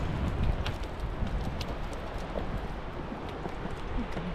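Horse hooves clip-clopping on a trail near Kaindy and Kolsay lakes in Kazakhstan, soft irregular knocks buried in heavy wind and rustling noise, no talking.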